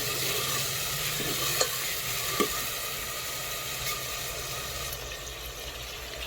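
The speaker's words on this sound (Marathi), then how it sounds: "तर हे टोमॅटो छान असे फ्राय झालेले आहेत" Tomatoes frying in oil in a pot over a wood-fired stove, a close, steady sizzle with a few stirring clunks from a spoon against the pot.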